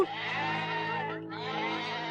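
A goat bleats close by in one long, loud, wavering cry with a brief dip midway, over a steady low background hum.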